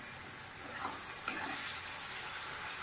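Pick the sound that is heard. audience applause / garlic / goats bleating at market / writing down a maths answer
garlic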